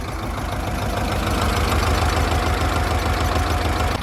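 An old tractor engine idles steadily after its centrifuge was swapped for an oil filter, a loud, close, continuous low rumble with an even mechanical knock throughout.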